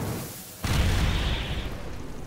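Pink Cannon awakening attack in the Roblox-style fighting game Anime Battle Arena erupts as a sudden loud blast that keeps roaring as a dense, rumbling explosion for nearly two seconds, with no speech.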